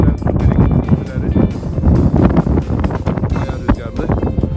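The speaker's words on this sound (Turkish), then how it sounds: "bayağı rüzgarlı." Strong wind buffets the microphone outdoors near a silver mine, loud gusty rumbles and thumps throughout, with someone talking over the noise.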